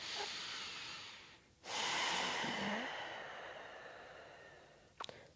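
A long, airy exhale is followed by a deeper, fuller breath during a gentle hatha yoga session, soft and close, ending with a faint click.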